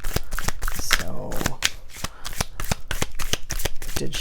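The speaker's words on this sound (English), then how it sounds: "Usually I just separate them into two piles and shuffle them and then kind of shuffle them together because the deck has a lot of cards in it and they're thick." Thick, oversized deck of cards being shuffled by hand, with a steady run of sharp riffling snaps and flicks close up, and a voice speaking softly over it.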